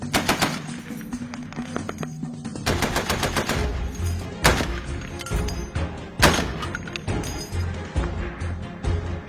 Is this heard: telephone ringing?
no